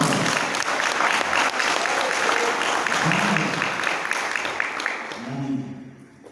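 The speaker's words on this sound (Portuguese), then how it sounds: "Um aplauso, Senhor, pela vida do João." A church congregation claps together at a Sunday worship service, sustained applause filling the room and slowly fading toward the end, with a few voices rising briefly amid the clapping.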